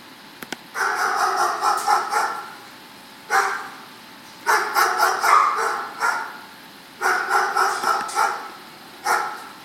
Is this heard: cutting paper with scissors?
no